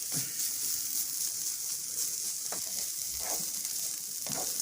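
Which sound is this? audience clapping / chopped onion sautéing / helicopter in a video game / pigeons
chopped onion sautéing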